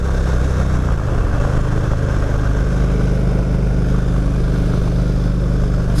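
A 2016 Indian Roadmaster motorcycle engine while riding, a loud continuous low drone whose pitch shifts slightly in the first second, then holds steady under strong wind rush.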